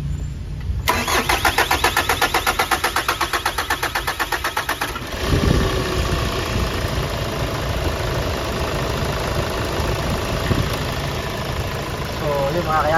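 A Hyundai Starex VGT diesel engine, one with smoke puffing from the oil filler cap, cranks and fires, then settles into a loud, steady rattling idle close by.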